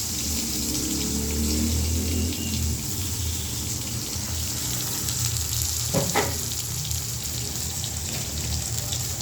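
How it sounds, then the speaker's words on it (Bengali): Eggplant slices fry in hot oil in a home kitchen, a continuous hissing sizzle with a brief sharper crackle midway, steady and close without any talk. "এবার বেগুন ভাজাগুলো করে নেব"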